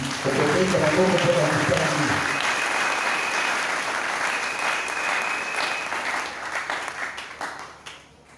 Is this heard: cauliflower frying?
no